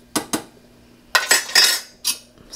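Metal spoon scraping and clinking against a pot while oats are stirred into simmering milk: two quick taps, then a longer cluster of scrapes and a final clink, close and fairly loud.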